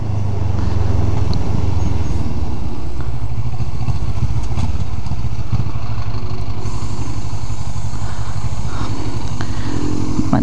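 A motorcycle engine runs loud and close throughout, a steady rumbling drone with some rattling clatter.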